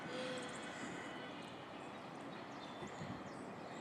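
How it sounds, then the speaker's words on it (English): A broad, continuous roar of a jet aircraft passing overhead, steady and somewhat distant, with no voices. "Sounds of jet engine aircraft."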